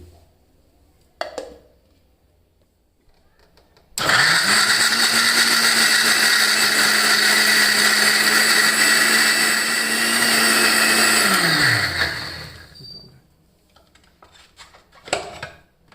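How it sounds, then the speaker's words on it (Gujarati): A small mixer grinder jar whirs loudly for about eight seconds, crushing dates and other milkshake ingredients, then winds down. Brief clicks and handling sounds come before and after the motor run. "હવે આપણે આપણી બધી જ સામગ્રીને એક નાના મિક્સર જારમાં લઈ લઈશું અને એને ક્રશ કરી લઈશું"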